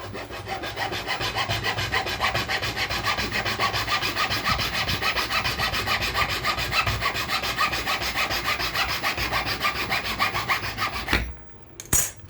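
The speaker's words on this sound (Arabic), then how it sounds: "نقطع مثلا كده اهو بصفيحه منشار" A hacksaw blade cuts back and forth through a broom handle in a fast, steady rhythm of rasping strokes close up, then stops near the end.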